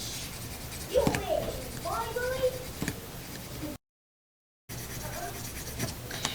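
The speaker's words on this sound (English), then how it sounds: "by coloring, I'm pressing down on the styrofoam and I'm making it recess to go down" A pencil presses and rubs into a styrofoam printing plate, coloring down the space around a star shape, giving soft scratchy strokes close up while someone talks over it; a brief silent gap breaks the sound.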